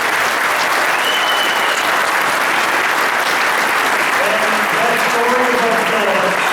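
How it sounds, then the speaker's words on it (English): Dinner audience applauding law enforcement, a loud sustained roar of clapping throughout with some cheering and a few voices rising near the end. "please give them a round of applause for some of their recognition"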